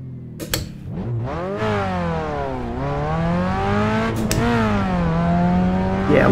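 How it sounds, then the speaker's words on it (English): A race car engine roars in the iRacing video game, loud and continuous, its pitch climbing and dropping through gear changes with a couple of sharp clicks or bumps along the way. "listen to that engine roar"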